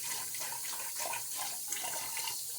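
Water runs steadily from a newly replaced bathroom faucet during cleanup after a wet shave, a continuous close hiss and splash with no talking.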